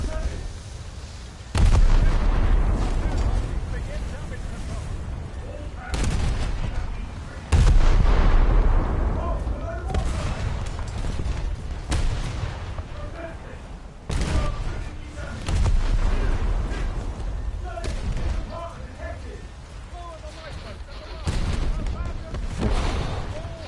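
Naval gunfire in War Thunder: a series of heavy, booming cannon shots at irregular intervals, each a sharp loud blast decaying into rumble, with a player speaking briefly between salvos.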